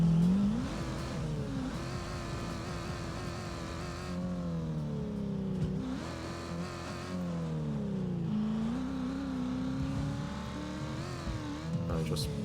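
In the video game ATV Offroad Fury 4, an ATV engine drones and revs in a steady, rising and falling whine, with tire squeal and a voice talking over the action.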